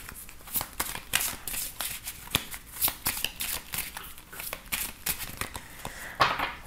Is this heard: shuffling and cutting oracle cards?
yes